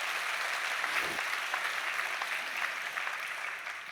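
Steady applause from a church congregation during a Sunday sermon, dense clapping sustained throughout at an even, moderately loud level.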